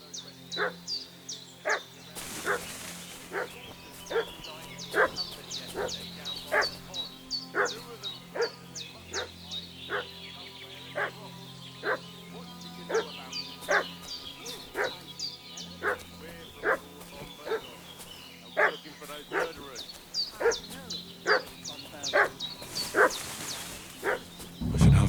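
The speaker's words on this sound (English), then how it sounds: "What's that dog making such a fuss about?" Dog in Kingdom Come: Deliverance II barking repeatedly at a steady rhythm, a long run of sharp, evenly spaced barks at middle distance over a low ambient game drone.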